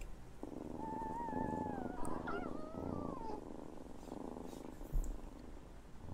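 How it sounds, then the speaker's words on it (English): Purring, rumbling calls of a Tyrannosaurus rex from the Primordial Tyrants mod for the Path of Titans video game, with wavering tonal trills over a steady low purr throughout and a soft thump near the end. "They literally sound like they are purring."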